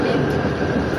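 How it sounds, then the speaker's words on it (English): A San Francisco tram running along the piers, heard as a steady, dense rumble of wheels on rail, close and loud without pause through the short stretch. "here's your tram system that just runs all the way along the piers."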